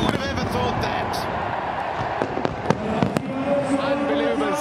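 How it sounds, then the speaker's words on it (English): Fireworks bursting over Karachi during a PSL cricket final celebration, with repeated sharp cracks and pops over a loud, busy crowd roar while people talk throughout. "Unbelievable scenes here from Karachi, the fireworks and all."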